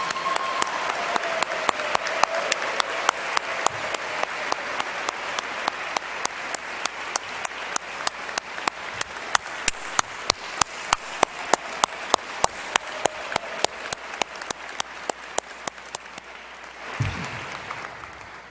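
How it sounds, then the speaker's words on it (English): A dinner audience gives a round of applause for founder Esther Lardent at an annual gala, a long run of close, crisp, rhythmic claps that swells and holds steady, then thins out near the end. "Can we have one more round of applause for Esther?"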